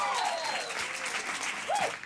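An audience claps at a live concert of original songs, with steady, moderately loud applause and a few whistles rising over it for about two seconds.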